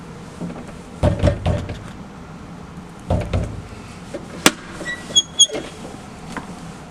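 A locked door is tried several times, giving a few clustered rattling thuds and clunks of the handle and frame at moderate loudness with quiet gaps between, plus a sharp click and some small knocks later on.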